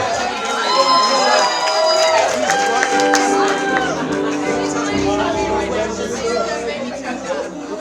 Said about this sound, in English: a big round of applause for our bride and her father